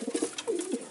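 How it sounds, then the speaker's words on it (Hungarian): Pigeons coo in a rapid, close string of soft, throaty calls that run throughout the second, at a show pigeon breeder's loft in Karcag, Hungary. "Csodálatos két madár."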